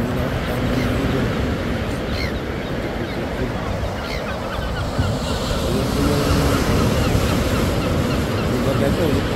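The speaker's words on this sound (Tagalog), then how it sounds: "So maalon po yung dagat na yun." Ocean waves break on the beach at Paritutu in a steady, full roar of surf mixed with wind buffeting, continuous throughout, with someone briefly speaking over it.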